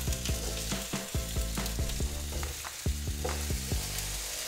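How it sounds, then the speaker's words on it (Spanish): Halved tomatoes, onion and two garlic cloves frying in oil, a continuous close sizzle with frequent crackling pops and spatters and a low steady hum beneath. "En este mismo aceite vamos a agregar también los jitomates."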